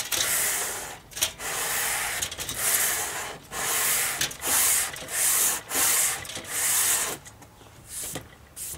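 Sandpaper rubs back and forth along a wooden guitar neck being radiused for an inlay, producing steady close rasping strokes in a repeated rhythm with brief pauses between passes.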